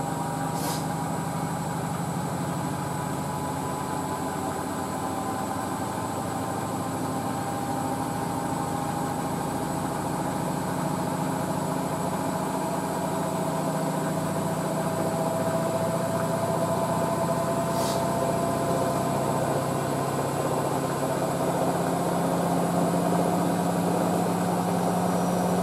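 Hotpoint WD640G Aquarius+ Super Silent washer-dryer running a spin sequence on a 95°C white cotton programme, giving a steady drone with a low rumble and a faint motor whine that shifts slightly in pitch throughout.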